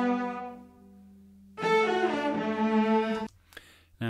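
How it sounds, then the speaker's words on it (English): Several cellos play together in a mixed string recording for a song cover, a sustained low harmonic phrase that swells into a fuller, louder passage, then breaks off into a short pause before resuming. "So here are the cellos that I've mixed together already."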